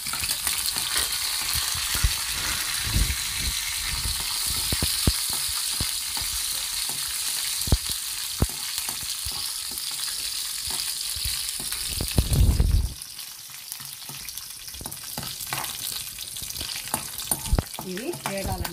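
Tempering spices with dried red chilli and curry leaves frying in hot oil for a greens-and-moong-dal dish, a steady close crackling sizzle with occasional spoon scrapes, briefly dropping in intensity partway through before continuing.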